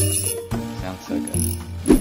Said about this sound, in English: The drag on this sounds super good.